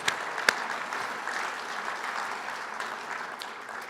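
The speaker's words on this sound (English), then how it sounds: "So please join me in a round of applause for our sponsors." An audience at a renewable fuels summit gives a round of applause for the sponsors, steady dense clapping at moderate distance with a couple of sharper claps at the start.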